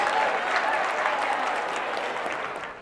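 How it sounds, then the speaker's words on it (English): A live audience claps together at a brand-building event, a dense, steady wash of applause heard up close that carries on for the whole stretch and slowly fades a little toward the end. "Clap it up for yourselves and have a seat"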